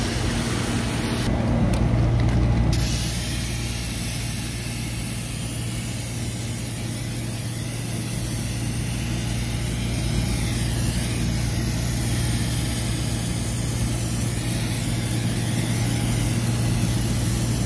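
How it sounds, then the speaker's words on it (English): Viper HD coil cleaner sprayed onto the condenser of a Heatcraft walk-in freezer: one short hissing burst over a steady, loud drone of running equipment with low hum. "I'll get some COIL cleaner on there too"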